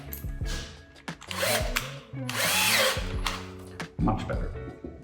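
Power drill with a 5 mm bit boring holes in leather for a handbag: a close, droning motor whine that rises and falls in a few runs, with a person talking between bursts.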